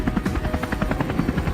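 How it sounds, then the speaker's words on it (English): A helicopter flies overhead during a wild boar hunt, its rotor giving a loud, close, steady rhythmic chopping thrum with a constant engine drone. "Helicopters were mobilized overnight."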